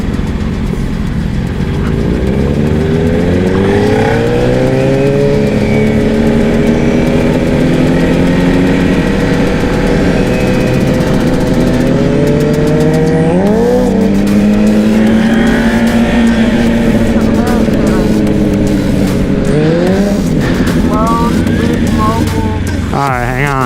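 A loud car engine revs hard and climbs in pitch repeatedly, straining in a low gear, with occasional voices under the roar.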